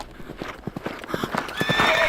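A loose horse's hooves clip-clop in an uneven, close run, with a loud, shrill neigh rising near the end.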